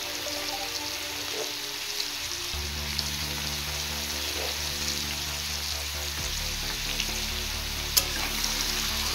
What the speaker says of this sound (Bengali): এবার এগুলো একটু আমি ফ্রাই করে নেব।